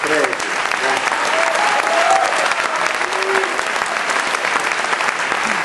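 An audience at a theatre performance claps loudly and steadily in a dense, sustained round of applause, with a few voices briefly audible among the clapping.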